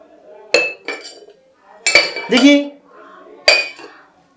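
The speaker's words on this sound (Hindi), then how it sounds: "हर एक बर्तन उठा के देखिए, सब काई लगल है" Dirty metal dishes and glasses at an anganwadi centre in Mohania are picked up and set down, giving sharp clanks and ringing clinks in separate bursts, close and loud.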